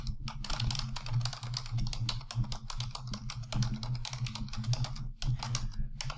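Typing on a computer keyboard, a steady close stream of rapid soft key clicks lasting several seconds over a faint low hum.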